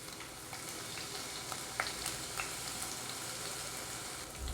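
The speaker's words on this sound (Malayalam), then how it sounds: "ഇതൊക്കെ ആദ്യം ഇട്ട് കൊടുക്കുന്നത് നമ്മൾ ചതച്ച ഇഞ്ചിയും വെളുത്തുള്ളിയാണ്" Crushed ginger and garlic frying in oil in a clay pot, a steady close sizzle with faint crackles and a few sharp pops, with no voices over it.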